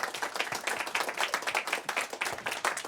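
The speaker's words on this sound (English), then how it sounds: "You should applaud that." A small room audience at a radio interview breaks into fast, dense clapping, moderately loud and continuous throughout.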